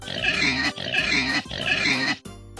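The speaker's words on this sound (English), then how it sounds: "Look at the pink piggy. Pig says," A pig grunts and oinks in three quick, rough bursts, close and fairly loud, followed by a brief quieter snort.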